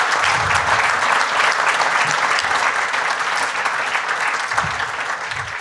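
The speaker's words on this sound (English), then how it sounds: "Why don't we give them all a round of applause?" Audience at a school board candidate forum applauding, a steady, dense wash of many hands clapping that fills the room and holds evenly throughout, with faint voices underneath.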